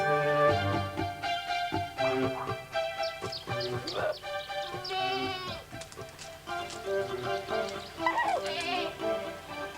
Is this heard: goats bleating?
yes